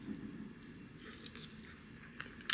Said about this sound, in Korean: 이거 꿔바로우 먹어볼게요